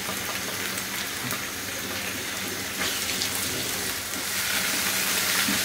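Tomato paste frying in a pan for a beef kofta curry, a steady, close crackling sizzle that holds evenly throughout and grows slightly louder near the end.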